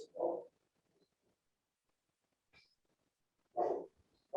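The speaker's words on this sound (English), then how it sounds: "puppy's barking" Two short dog barks a few seconds apart, moderately close, with quiet gaps and a faint high chirp between them.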